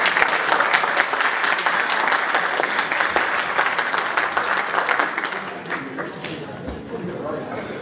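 An audience at a talk on data and artificial intelligence claps steadily to welcome a speaker. The dense applause fills the room, then slowly thins and quiets toward the end.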